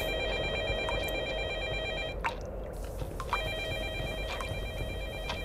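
A telephone rings in the horror game Technician Nightmare, its steady electronic bell tone repeating over a loud constant hum of background noise, with a brief dropout partway through.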